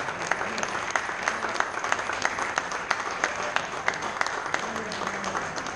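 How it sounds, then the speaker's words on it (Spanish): A crowd applauds at a writers' circle anthology book presentation as a woman comes up to collect her copy. Steady, moderately loud clapping continues throughout, with individual sharp claps standing out. "vamos a dar un aplauso"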